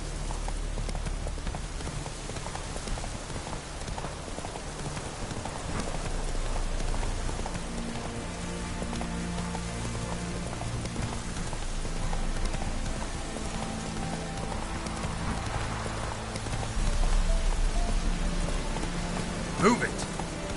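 Roach the horse gallops through rain in a video game, muffled hoofbeats thudding under a constant hiss of falling rain, with a voice speaking briefly near the end.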